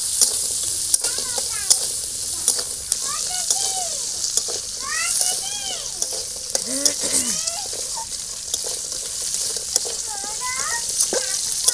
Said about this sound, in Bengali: এবার একটু ফুটিয়ে কাঁকড়াটা আমি একটু ভাজি ভাজি করে নেবো।